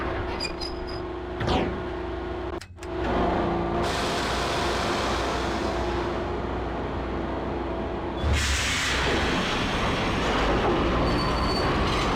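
Train rolling through a station in the Max Payne video game, its wheels squealing loudly and steadily throughout, with a brief sharp dropout near the start and a surge of rumbling noise toward the end.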